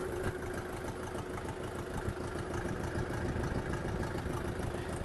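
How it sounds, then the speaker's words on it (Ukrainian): A Kentavr 404X mini tractor engine idles steadily with a constant, even rumble and a low, continuous drone throughout, close up and fairly loud, with no clear start-up heard. "Давайте спробуємо завести."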